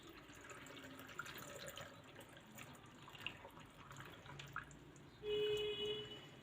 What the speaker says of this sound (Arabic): احنا نبقى مالين الميه على الاخر